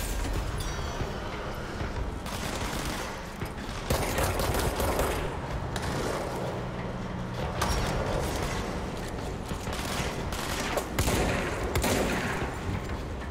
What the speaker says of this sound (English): Okay, shotgun for close range.